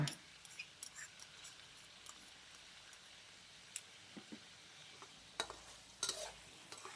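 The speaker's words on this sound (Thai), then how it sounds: "แล้วก็จะผัดคลุกเคล้าให้เข้ากันค่ะ" Chicken wings with sugar, seasoning powder, green-cap sauce and oyster sauce are stir-fried in a pan, a faint sizzle under scattered scraping and tapping of a spatula.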